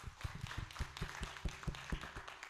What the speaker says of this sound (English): So please give him applause.